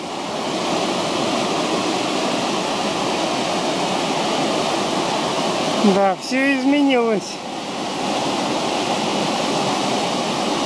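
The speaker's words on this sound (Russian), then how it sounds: "После дождя какое сильное течение." A Japanese mountain river in Hyogo, swollen after rainy-season rain, rushes as a loud, continuous broadband roar of churning water close by, and someone speaks briefly over it midway.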